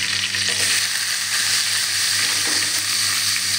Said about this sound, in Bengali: পেঁয়াজ দেওয়ার পরে পেঁয়াজটিকে ভালো করে একটু নেড়ে চেড়ে ভেজে নেব।